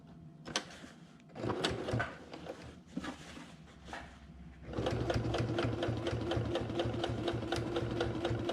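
A sewing machine stitching a parka runs in short bursts, then settles into a steady, rapid mechanical chatter, close and clear with no talking.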